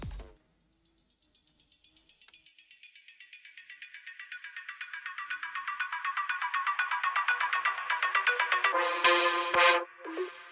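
An arpeggiated synth line, processed with effects, reverb automation and Soothe filtering of harsh frequencies, in a dark liquid drum and bass production: a rapid, steady run of bright notes swelling from faint to loud, ending in a burst of bright accents.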